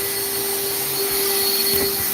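A vacuum cleaner runs steadily, sucking up killer bees, with a constant loud whine and airflow roar throughout and no one speaking.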